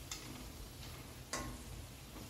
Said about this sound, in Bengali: দেখুন সুন্দর করে ভাজা হচ্ছে, একটাও ছেড়ে যায়নি। মিডিয়াম ফ্লেমে ভাজতে হবে